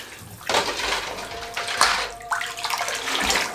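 Red sharbat syrup (jam-e-shirin) is poured into a milk drink, making a close, splashy liquid rush that comes in a few uneven bursts.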